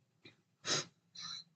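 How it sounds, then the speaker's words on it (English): Three short nasal sniffs or snorts from a person with a head cold, quiet and close, spaced apart with no talking. "I've got a bit of sniffles, so please don't mind that."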